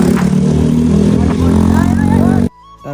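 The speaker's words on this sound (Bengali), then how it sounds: "আমাদের সাথে দুইটা এক্সোসালা বাইক ছিল, তো ওরা কিভাবে সাউন্ড দিতেছে আপনার একটু।" Motorcycles fitted with aftermarket exhausts rev loudly and close by in a deep, rumbling drone that cuts off abruptly.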